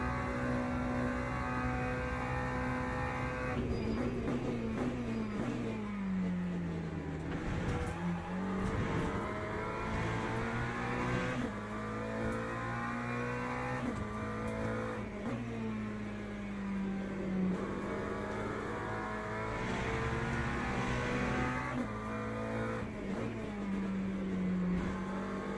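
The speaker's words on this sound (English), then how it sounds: "But what is that top speed from Ferrari like?" Ferrari race car held at top speed in the wet on a fast circuit, its engine a loud, steady high-pitched drone that wavers slightly in pitch with small shifts, running continuously for the whole stretch with no voices.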